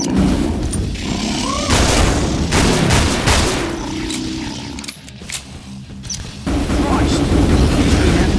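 Dense, continuous gunfire and booming blasts from a horde-shooter game on Hell on Earth difficulty with a Firebug, loud and sustained with a brief lull, under game voice and chatter.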